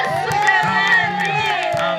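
A church congregation at a Tanzanian repentance prayer service bursts into cheering and shouting, with whoops and raised voices carrying over a dense, sustained crowd roar throughout.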